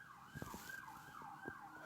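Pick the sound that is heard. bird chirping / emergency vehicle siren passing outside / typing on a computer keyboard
emergency vehicle siren passing outside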